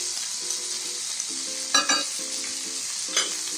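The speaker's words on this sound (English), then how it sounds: "in the center space, we add in chopped garlic" Chopped garlic fries in the middle of a pan beside pushed-aside chicken, with a loud steady sizzle and a few brief scraping stirs, and no talking.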